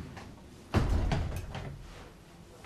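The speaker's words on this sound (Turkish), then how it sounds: "O kapıyı kapat yavrum." A door closing indoors: a single solid thud followed by a short rattle and settling noise, moderately close.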